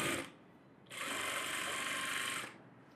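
A sewing machine stitches net fabric onto a blouse at the neckline in a tailoring class, with a short burst of stitching, a brief pause, then a steady, close, continuous whir lasting about a second and a half.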